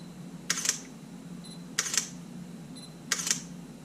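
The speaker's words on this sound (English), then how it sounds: "3 shutter actuations." Three crisp shutter clicks from a Sony A7 II camera, evenly spaced about a second and a quarter apart, close up in a quiet room.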